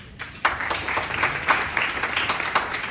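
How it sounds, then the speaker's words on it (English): Fundraiser audience for an Islamic school claps a round of applause for themselves, starting after a brief pause and swelling into a steady patter of many hands, with distinct louder claps standing out in a roomy hall. "Give yourselves a round of applause."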